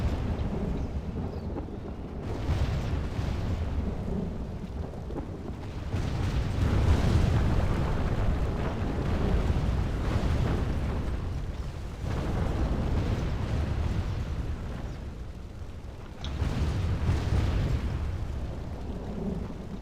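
Explosions tear down a building in a Total War siege battle, with deep rumbling blasts that swell and fade in waves, loud and continuous with heavy low crashes.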